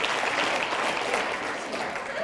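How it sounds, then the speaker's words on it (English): An audience applauds steadily in an indoor seminar setting, a dense, even clatter of many hands clapping close by for a couple of seconds. "Give yourselves a round of applause for that."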